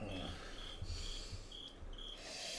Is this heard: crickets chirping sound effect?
yes